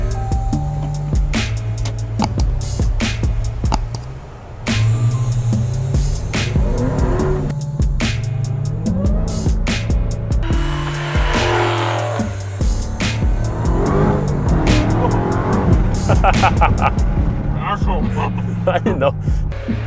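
A 2021 Dodge Charger Hellcat Wide Body's supercharged 717-horsepower V8 revs and accelerates throughout, with a deep throaty rumble and rising pitch, and people talking over it.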